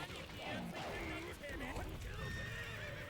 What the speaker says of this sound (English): Oh, we've set up the horses.